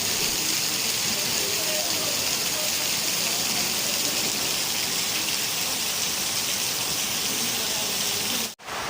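Steady rain falls at a railway station during the monsoon season, a broad, constant hiss of drops on roofs and platforms, close and loud, cutting off abruptly near the end.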